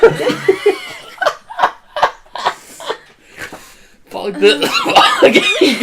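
Several harsh, bursty coughs in a row, loud and close, mixed with throaty laughter and some talking.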